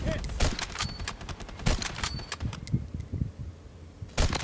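Sniper rifle fire in a shooting video game, sharp broadband cracks repeating at irregular intervals over a busy, noisy game mix, with one last loud shot near the end.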